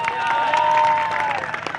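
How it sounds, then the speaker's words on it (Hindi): Short crowd applause at an outdoor election show in Rajasthan, a dense patter of clapping with faint cheering and voices mixed in. "पहले तो इनके लिए सारे लोग तालियां बजाएंगे।"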